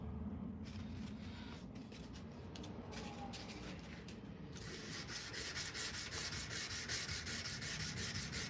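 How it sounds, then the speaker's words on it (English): Steady, continuous rubbing and scraping of hand sanding a kitchen knife blade, close and even throughout with no talking. "watching somebody hand sand is not really interesting"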